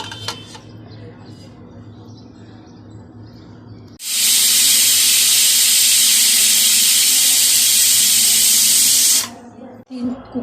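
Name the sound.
pressure cooker whistling and releasing steam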